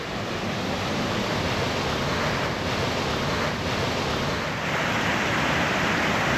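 The Lower Martuljek waterfall in the Julian Alps rushes in a steady, loud, hissing roar of falling water, heard alone without talk.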